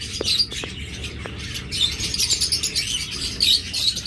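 A pair of creamino opaline pet birds chirping and squawking in short, scattered tweets over a low background hum, close by, with no talking.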